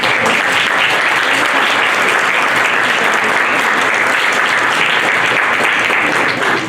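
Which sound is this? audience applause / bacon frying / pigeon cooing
audience applause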